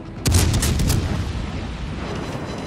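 Naval gunfire in the World of Warships video game: a single heavy cannon salvo bursting loud and close, followed by a rumbling roar that slowly fades into a steady background wash.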